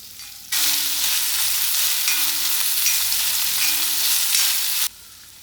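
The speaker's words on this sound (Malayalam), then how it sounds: "നമുക്ക് വലിയ ഉള്ളിയും പച്ചമുളകും കൂടി വഴറ്റിയെടുക്കാം" Onions and green chillies sautéing in hot coconut oil in a pan, a loud dense sizzle that starts abruptly, holds steady for over four seconds, then cuts off sharply, no talking.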